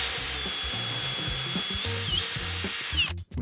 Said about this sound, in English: We bore that away, creating that nice finish there.